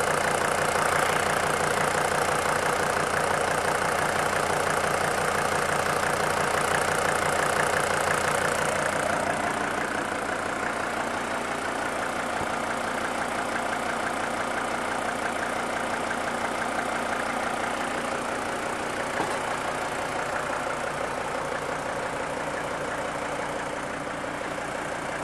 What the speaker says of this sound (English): This engine gets started and run not quite to this level of abuse about once a month.